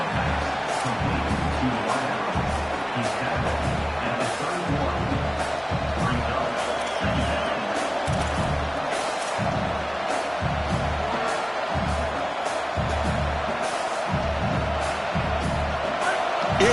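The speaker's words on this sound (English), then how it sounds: "this crowd is fired up. Listen to this noise here." Continuous roar of a large stadium crowd cheering in a college football video game, dense and steady throughout, with faint voices mixed into the din.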